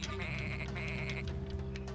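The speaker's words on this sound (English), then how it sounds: "it'll just make sheep noises" A sheep bleats in the video game Tak and the Power of Juju: a loud, close, wavering cry that fills the moment with no talk.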